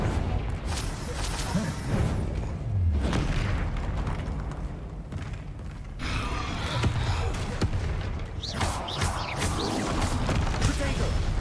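Confringo blasting spells explode in Hogwarts Legacy amid combat, giving heavy booms and thuds with rumbling impacts over a continuous, loud battle din; a voice speaks at times.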